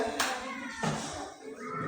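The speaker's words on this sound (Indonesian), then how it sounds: "Tepuk tangan dulu anak-anak." Fourth-grade schoolchildren in a classroom clap for classmates, with a couple of sharp claps standing out over a low murmur of voices and children talking.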